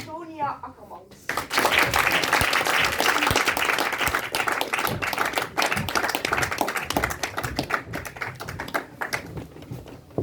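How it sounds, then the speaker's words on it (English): An audience bursts into sustained applause after a film screening Q&A, starting abruptly after a brief lead-in and continuing densely to the end, with some tapping mixed in. "So a big round of applause for Carice van Heusden and Antonia Ackermans."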